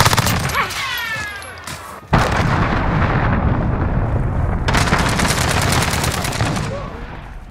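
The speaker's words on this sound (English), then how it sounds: "Allied cruise missile launched." Cruise missile strike in a Call of Duty Modern Warfare team deathmatch: a sudden loud blast hits around two seconds in, then a heavy, sustained roaring rumble with crackling debris, after a brief voice and scattered gunfire.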